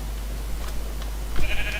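A single short Minecraft sheep bleat near the end, over a steady low hum, after quiet faint noises.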